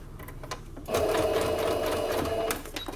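Sewing machine running steadily to stitch bias binding flush along the edge of a fabric piece for an oral hygiene kit; after a brief pause the motor whirs continuously for about a second and a half, close and clear, then stops.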